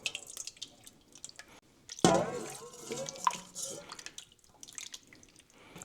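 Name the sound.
homemade beef stock dripping from container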